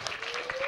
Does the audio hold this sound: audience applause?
yes